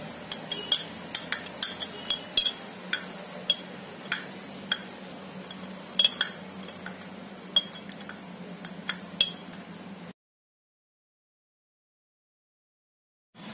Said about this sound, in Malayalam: നമുക്കിനി ഒരു സ്പൂൺ എടുത്തിട്ട് ഇത് നന്നായിട്ടൊന്ന് ഇളക്കി യോജിപ്പിക്കാം.